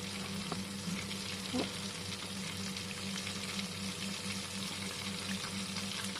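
Chicken fries in hot oil in a Korean fried chicken preparation, giving a steady, dense, close sizzle that holds evenly throughout with a few faint clinks and no talking.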